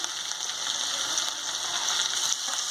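Chicken pieces fry in hot spiced oil with a steady, even sizzle and crackle, close and moderately quiet, with no voices.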